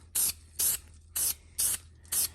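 Five short, evenly spaced bursts of spray paint hiss close by as light primer coats go onto a 1965 Ludwig snare drum, with quiet gaps between the bursts.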